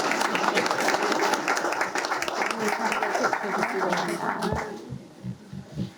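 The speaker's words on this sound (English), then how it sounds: "I think you deserve another round of applause." Loud, dense applause from a crowd at a county board of commissioners meeting, many hands clapping steadily, then tapering off toward the end as murmuring voices remain.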